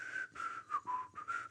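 A person whistles a short, choppy tune in imitation of a habitual whistler, four or five quick bright bursts with brief gaps, close and fairly quiet.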